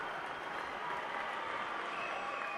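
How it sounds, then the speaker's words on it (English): High school basketball crowd in a gym during a timeout, a steady wash of cheering and clapping from the student section, moderately loud and continuous. "Listen to this crowd."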